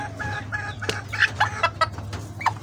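Golden Sebright chickens in a farm pen give a short run of soft, clipped clucks, close and fairly quiet, over a steady low hum.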